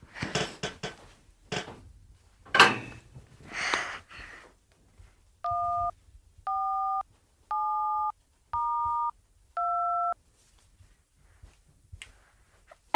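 A telephone is dialed to call an uncle: after some clattering handling noises, five evenly spaced two-tone keypad beeps sound clearly and alone, each about half a second long.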